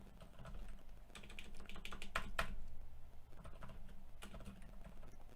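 Typing on a computer keyboard placed in an awkward position, a steady run of fairly faint, rapid key clicks with a few denser bursts, heard alone throughout.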